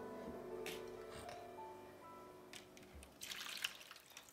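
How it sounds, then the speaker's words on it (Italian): Water is poured into a plate in a quiet indoor setting, giving a faint trickling and splashing that grows in a brief burst near the end, with no talk over it. "Quindi mettiamo l'acqua nel piatto."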